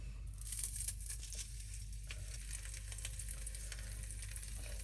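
Pork belly seasoned with salt and pepper sears in a hot slow cooker, giving a steady close sizzle and crackle with faint crinkling, no voices over it.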